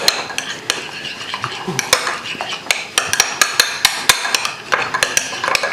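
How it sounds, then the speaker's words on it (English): A spoon stirs sandwich spread ingredients in a bowl, steady scraping broken by sharp clinks against the dish at an irregular pace, close and loud, with no voices. "we mix this all in for later on for our spread on the bread"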